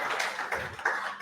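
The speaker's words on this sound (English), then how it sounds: "Please give our guest speaker another round of applause" Audience applause for a guest speaker at a human rights event, a steady patter of many hands clapping, fairly dense and even throughout the short burst.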